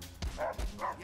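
A dog in the South Park: The Fractured But Whole video game gives two short yelping barks with a whimpering edge, close and fairly loud, set against game background sound.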